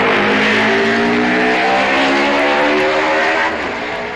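A racing motorcycle, John Surtees on an MV, tears past at the Isle of Man TT on a record lap. Its loud, close engine gives a steady high-pitched harmonic howl that fades slightly toward the end, with no talk.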